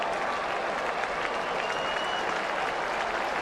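A huge baseball crowd in Toronto roars in a sustained ovation after a Manny Ramirez home run into the upper deck, a dense, steady wash of applause and cheering that fills the whole stretch with no talk over it.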